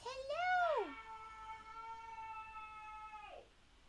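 A single drawn-out cat meow, rising sharply and then holding a long steady tone before trailing off, heard close and clear against a quiet room.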